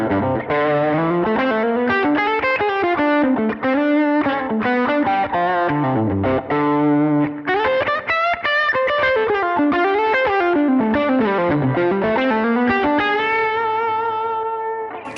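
Electric guitar through a Tube Screamer overdrive playing a sustained, sliding melodic lead, smooth and saturated with a touch of room ambience, loud and continuous without talking.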